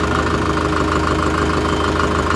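A Farmtrac 6055 4x4 tractor's diesel engine runs steadily up close, a loud continuous knocking rumble with a throbbing, even rhythm and no talk over it.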